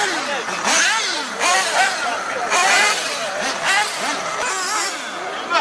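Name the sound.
1/8 nitro RC buggy with 3.5cc nitro engine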